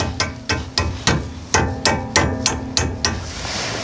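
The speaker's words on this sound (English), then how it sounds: "I'm going to take my hammer and just give it a little tap while I wiggle things around." A hammer taps metal on the brake pads of a fourth-generation Toyota 4Runner, about nine sharp, evenly spaced ringing strikes, loud and close, with no talking.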